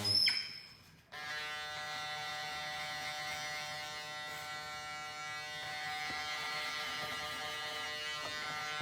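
Electric hair clippers buzz steadily and close while cutting a short men's fade, a continuous bright hum after a brief opening clatter, with no talk.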